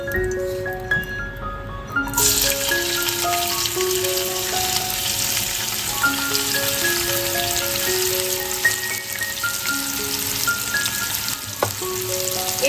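Chopped onion hits hot mustard oil and fries with a steady, close sizzle and crackle, a brief quieter start giving way to dense spitting that holds for the rest of the moment, faint tonal background notes running underneath.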